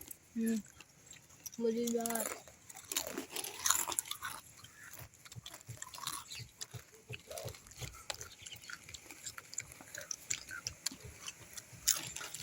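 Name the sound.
crunching papdi while eating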